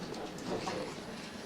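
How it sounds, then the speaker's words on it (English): A train passes outside, a steady broad rumble and wash of rail noise throughout, fairly faint and distant, with a brief word spoken over it. "That's the train."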